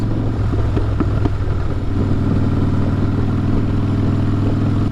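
Harley-Davidson Breakout motorcycle engine running steadily and close, a low, constant rumble with some clatter throughout, no talking.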